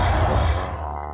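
A Minecraft Ravager lets out a deep, throaty grunt with a honking undertone, one short close growl that fades at the end.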